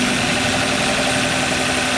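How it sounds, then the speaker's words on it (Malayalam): Maruti Vitara Brezza 1462 cc petrol engine, BS6 2020 compact SUV, running at a steady idle: an even, continuous mid-pitched hum with a low vibrating drone, close and fairly loud, no talking. "നമുക്ക് വണ്ടി ഒന്ന് സ്റ്റാർട്ട് ചെയ്ത് എഞ്ചിൻ സൗണ്ട് ഒന്ന് ശ്രദ്ധിക്കാം."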